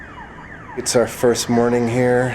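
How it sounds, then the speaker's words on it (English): A faint electronic alarm wails in the distance while a person speaks close by. "You can hear that alarm going off in the distance"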